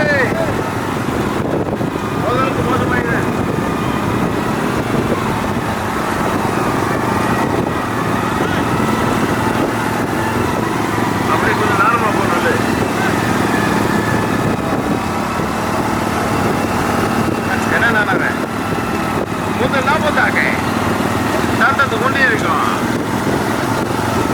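Motorbike engines rumble and drone continuously at a small bullock cart race at Kuppaikulam, heard close and loud with wind buffeting the microphone and a commentator talking over the noise throughout.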